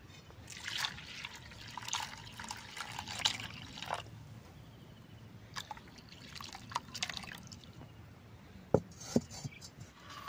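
Water being worked into ground jackfruit seed paste in a bowl gives faint, intermittent drips, trickles and small splashes over a quiet background, with no talking.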